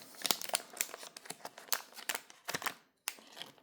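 A thick Topps Champions League Paris Saint-Germain card packet is pulled open, giving close, irregular crinkling and crackling bursts of stiff foil wrapper that stop briefly and then resume.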